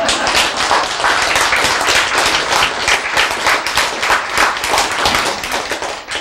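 Sustained audience applause, a dense, steady wash of many hands clapping for about six seconds at an even loudness, with no talk over it.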